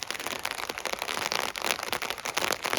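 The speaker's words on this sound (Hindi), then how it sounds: "तो ये बारिश हो रही है अभी" Heavy rain pours down in an Uttarakhand forest at a campfire cooking camp, a dense, steady hiss of drops drumming on surfaces with crackling spatter, close and loud, with no talk.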